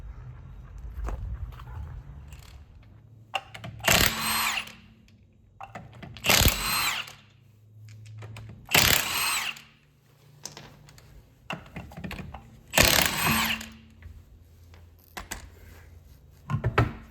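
A power buffer works over a painted wheel on a 2001 Chevrolet Camaro, its whirring rising in four or five loud bursts of several seconds each, separated by quieter stretches of handling noise.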